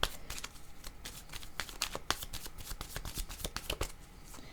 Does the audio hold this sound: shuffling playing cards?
yes